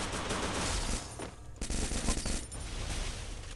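Rapid automatic gunfire in the Free Fire video game, dense bursts of shots running almost continuously at moderate level with a brief dip near the middle.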